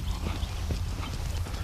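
A black horse clip-clops around a show arena, its hooves striking in a steady rhythmic beat, close and clear, with no voices.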